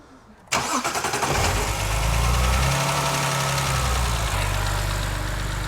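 A wrecked BMW car engine, just restarted after a loose ignition coil was resecured, runs loud and steady close by, with a low idle drone and a slight uneven knock throughout.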